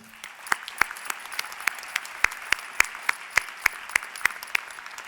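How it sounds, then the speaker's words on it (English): Applause at a spring commencement ceremony as graduates honor their supporting families: crisp, fairly sparse hand claps ring out as distinct sharp hits over a soft crowd wash, steady through the whole stretch at moderate distance. "I'd like to ask the graduates to join me in a well-deserved round of applause for the loved ones who have supported you"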